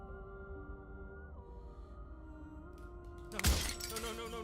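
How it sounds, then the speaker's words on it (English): A pane of glass shatters in the Slay the Princess video game, one sudden bright crash with a scattering tail rising out of a low sustained drone and tones. "at the sound of breaking glass"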